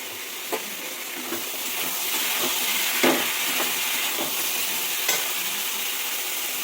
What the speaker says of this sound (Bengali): এদিকে ভাজাটাও বসে দিয়েছে